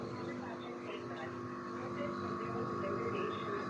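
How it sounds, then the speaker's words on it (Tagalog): A split-type air conditioner condenser hums steadily up close, a constant low mechanical drone with buzzing tonal overtones. "Maririnig nyo po yung tunog ng condenser."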